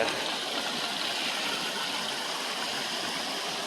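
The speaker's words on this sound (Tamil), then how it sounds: "ஸோ இப்போ தண்ணி வருது இல்லையா" Water flowing steadily from the source stream above the Talakona waterfalls near Tirupati, a continuous broadband rushing wash with no pauses, close and fairly loud, with no talking.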